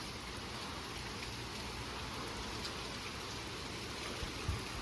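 Rain falls outdoors as a quiet, even hiss that stays steady throughout, with one small soft bump near the end and no one speaking.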